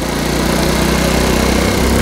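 A Honda Cub C90 motorcycle's small single-cylinder engine runs steadily while riding, a close, loud, buzzy drone with even pulsing throughout and a slight dip in revs near the end.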